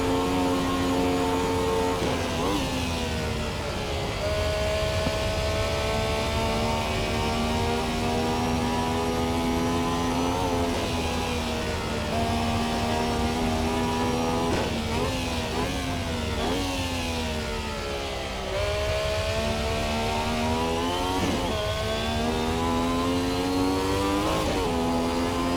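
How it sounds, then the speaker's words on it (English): A Ferrari 312T racing car engine revs hard on a track, its loud, high harmonic wail climbing and dropping repeatedly through gear changes across the whole stretch, close and without any talk. "At least you got a great engine to listen to while you're setting your date with God."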